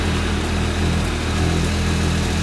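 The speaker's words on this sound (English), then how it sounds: "this is the worst stock exhaust I've ever heard on a motorcycle" A Yamaha R9 motorcycle on its stock exhaust runs with a steady, continuous engine drone. The tone is low and even, with no pauses and no talking.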